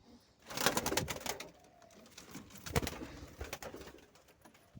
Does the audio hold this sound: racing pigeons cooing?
yes